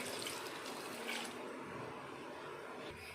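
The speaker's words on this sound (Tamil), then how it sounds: "இதில் ஒரு கப் அளவு தண்ணி ஊற்றிக்கலாம்." Water pours steadily into a pot, a soft continuous splashing rush at low volume with no voices.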